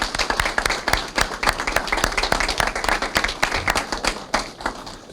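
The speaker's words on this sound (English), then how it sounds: "if we could give him a big round of applause" Sustained applause from a crowd, dense steady clapping filling the room at moderate loudness, with no voices over it.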